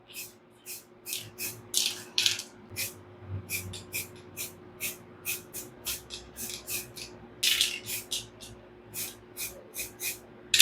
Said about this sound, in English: we're just going to go in with this green and spray some down